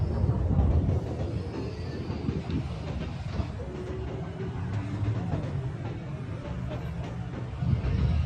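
A train rumbles steadily and close by in a noisy, echoing train station, with wind buffeting the microphone.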